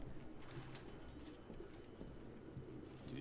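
Pigeons coo in the video game Detroit: Become Human, soft repeated throaty calls set against a quiet, hissy background with no voices.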